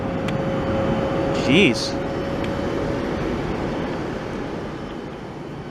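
A jet airliner is heard near Newark airport as a steady, broad engine roar that holds throughout, with a brief voice and a short whistle-like tone partway through.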